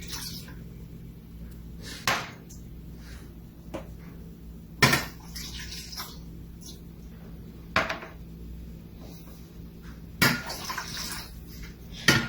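Water from three glasses tipped into a basin during a classroom demonstration, heard as several separate splashing bursts with light clinks of glass and containers between them, close and fairly loud.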